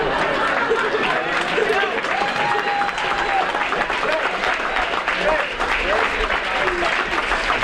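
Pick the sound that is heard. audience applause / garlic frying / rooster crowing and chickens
audience applause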